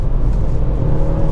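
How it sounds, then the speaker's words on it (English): Car engine from an older car on its original 111,000-mile dampers, revving under acceleration while driving, a steady close rumble with a low droning tone throughout. "It's not the greatest sounding engine in the world, but it's got a bit of character."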